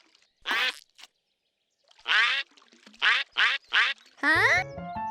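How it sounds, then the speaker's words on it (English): Cartoon ducks quack in the mud, one quack, then a pause followed by a run of five loud, close, evenly spaced quacks, ending under a brief musical note. "There were real ducks."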